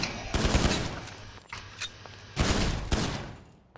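Rapid automatic gunfire from Grand Theft Auto V, aimed at an iPhone in a trashed apartment, comes in two loud sustained bursts with a few single shots between them.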